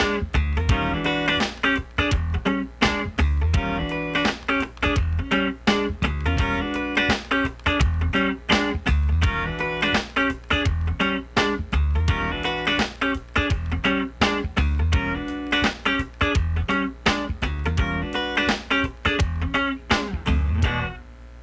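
Funk rhythm guitar played with a swing feel, dense rhythmic chord stabs and muted scratches in a steady groove, loud and continuous with no talking.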